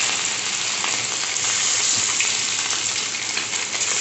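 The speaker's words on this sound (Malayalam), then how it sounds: "ചട്ടി അടുപ്പിൽ വെച്ച് എണ്ണ ഒഴിച്ച് ഈ മീനിട്ട് കൊടുക്കാം." Fish fries in oil in a pan on a stove, giving a steady, close crackling sizzle with no talk over it.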